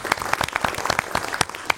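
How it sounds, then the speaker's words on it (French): Audience applause welcoming Hélène Frappa at a talk, a dense patter of many hands clapping at close range, steady with sharp individual claps standing out across the short burst. "je vous demande d'applaudir"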